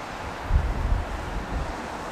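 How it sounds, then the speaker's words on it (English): Wind blowing outdoors beside a highway near an abandoned stone house, a steady rushing buffet against the microphone with a few low gusty thumps, no talk. "It's a little windy out."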